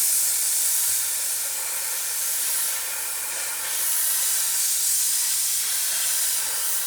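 A steamer hisses steadily while cleaning the Alcantara and leather interior of a BMW F10 M5, a loud continuous close-up jet of steam that swells and eases slightly, with no talking.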